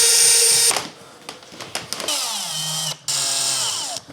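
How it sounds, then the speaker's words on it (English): A power drill bores a hole in a kayak while a power system is being installed. The close, loud whine cuts out, stutters in short bursts, then runs steadily again before stopping briefly and resuming. "gonna drill out the hole right here"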